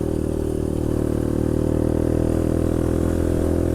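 A motorcycle rides over a road under repair, its engine a steady, loud, close drone with faint clatter underneath and no talking.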